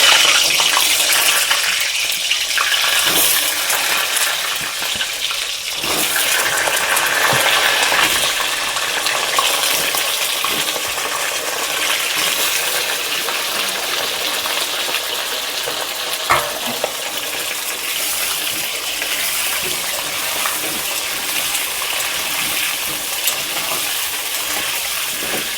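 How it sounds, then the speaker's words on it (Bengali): Potatoes fry in hot oil in a wok while cooking chicken curry, giving a loud, continuous sizzle with occasional clinks and stirring scrapes throughout. "গরম হয়ে গেছে, এবার আমি আলুগুলো ভেজে নেব।"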